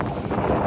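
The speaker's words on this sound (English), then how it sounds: "it sure is windy" Steady, roaring wind buffets the microphone near a controlled forest fire in Biloxi, Mississippi, a dense low rumble with no pauses.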